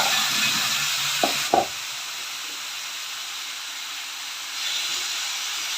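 Button mushrooms dropped into a hot pan for a mushroom gravy give two brief thuds, then a steady broadband hiss of frying that swells slightly near the end, with no talking.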